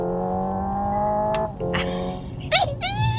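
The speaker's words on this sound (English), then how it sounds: "it sounds so fantastic going up and down the gearbox. Oh, it even blips the throttle for" Inside a Hyundai Ioniq 5 N electric hot hatch, a simulated petrol engine drones through the gears and then gives a quick throttle blip near the end, with someone talking over the sound throughout.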